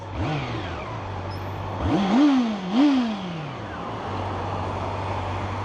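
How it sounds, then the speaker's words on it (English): A Honda CB400 learner naked motorcycle's smooth exhaust while riding, steady engine drone with two rising revs as gears are worked, then settling back to an even cruise, close and continuous. "it's not the beastiest sounding exhaust, but it's just the smoothness"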